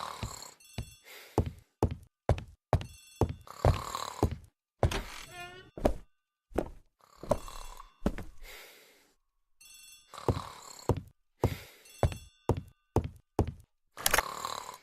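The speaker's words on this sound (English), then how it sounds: "The telephone in the hall is ringing." Old telephone ringing in a hall in a radio drama, bright bell rings in repeated bursts with a short pause between them, close and clear, with a few soft thumps and breaths mixed in.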